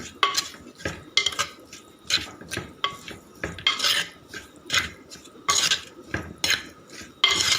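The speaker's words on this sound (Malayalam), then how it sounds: "നല്ലതുപോലെ മൊത്തം മഞ്ഞൾപ്പൊടിയും ഉപ്പും പുരണ്ട് വരുന്നത് പോലെ നമ്മൾ ഇളക്കി കൊടുക്കുകയാണ്" Clam meat tossed with turmeric and salt in a pan, stirred by a utensil scraping and clinking against the metal in irregular, close strokes over a soft background sizzle.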